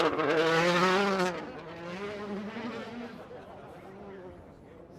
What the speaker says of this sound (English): Hayden Paddon about to launch the Hyundai.